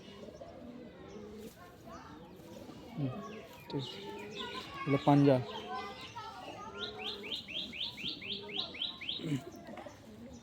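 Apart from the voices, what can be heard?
pigeons (Giribaj, Madras breeds) cooing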